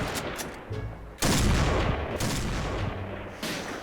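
Shots from a BORA-12 sniper rifle in a video game: several sharp, loud, close reports, one especially heavy blast in the middle, with battle noise between shots.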